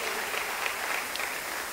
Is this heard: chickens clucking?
no